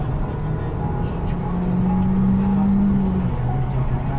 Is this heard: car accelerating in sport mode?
yes